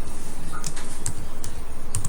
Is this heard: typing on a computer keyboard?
yes